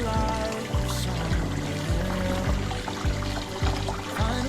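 Hot water poured while cleaning a fish for frying, a steady splashing pour with a repeating low thumping rhythm underneath, fairly loud and close, with no talk.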